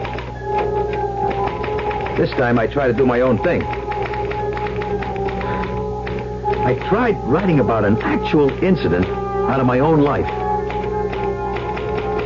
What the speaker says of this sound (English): I had to get back to that infernal machine, the typewriter.